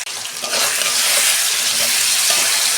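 Ginger garlic paste goes into a pan of fried potatoes, setting off a loud, steady sizzle and crackle of hot oil that runs nearly three seconds after a brief quieter start, with occasional stirring scrapes.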